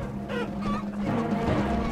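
Chickens clucking in the video game Totally Accurate Battle Simulator, a short burst of close, busy fowl calls and squawks layered over a steady background hum.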